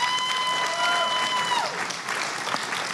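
An audience claps and cheers together for a few seconds, a dense wash of applause with a voice briefly audible over it.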